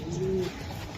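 A racing pigeon gives one short, close, low coo that fades into quiet background rustling.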